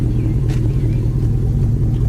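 A 1950 Ford street rod pickup idles with a deep, steady engine and exhaust rumble through fairly new exhaust, loud and close with a slightly uneven low pulse.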